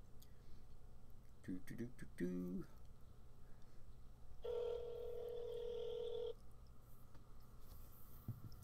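Telephone keypad tones as a call is placed, a few short beeps followed by a longer ringing tone, heard over low room noise.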